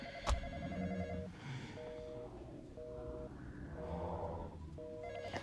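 A telephone rings in repeated bursts inside a Roblox horror game, its electronic bell pattern sounding four or five times over a steady low background hum with no speech.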